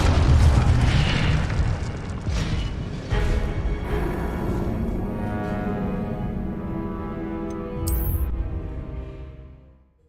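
A fiery spell blast in the wizarding video game Hogwarts Legacy: a deep booming burst that rumbles and slowly fades, with a bright crackle near the end.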